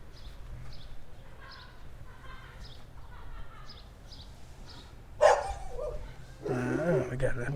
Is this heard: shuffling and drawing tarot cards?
no